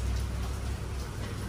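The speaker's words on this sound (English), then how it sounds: "And it is raining for sure." Steady rain falls outdoors during a pressure washing job, a dense even hiss of drops close by with no talk over it.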